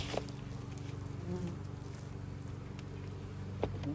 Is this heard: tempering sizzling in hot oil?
no